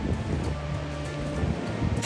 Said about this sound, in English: every time I see waves crashing against rocks